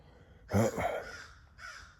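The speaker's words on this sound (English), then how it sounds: "You hear that crow?" A crow caws loudly nearby, two or three harsh calls in quick succession, the first strongest, followed by a fainter caw.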